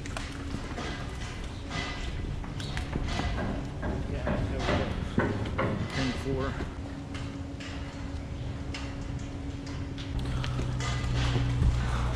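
Dairy cows are sorted out for hoof trimming in a barn. Their hooves clop and shuffle on the floor amid clanking gates and a steady background hum, with people talking now and then.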